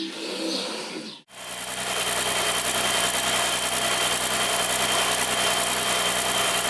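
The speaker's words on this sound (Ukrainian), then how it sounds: "Як і очікувалося, робота двигуна стала рівною." A steady OM 352A diesel truck engine drones without a break after a brief start-up noise, holding an even, smooth rhythm at idle after repair of a sticking injection pump rack.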